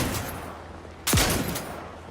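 A triple barrel shotgun fires once in The Outer Worlds 2, a single loud close blast with a short decaying boom, set against a steady background of game ambience.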